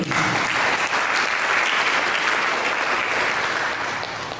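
A church congregation breaks into applause, a dense, loud wash of many hands clapping that stays steady for several seconds before easing slightly.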